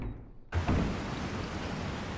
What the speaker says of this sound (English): Sudden rain.